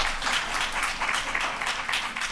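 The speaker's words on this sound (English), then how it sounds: "let's give them a round of applause" Applause from a conference audience for a youth group from Flagstaff, Arizona, at a plenary session; a steady, fairly close wash of many hands clapping that runs through the whole moment without letting up.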